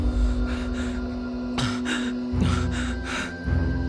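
Frightened, heavy panting and sharp gasps as a horror story sound effect, a run of breathy bursts close to the ear, ragged and uneven in rhythm over a low droning background.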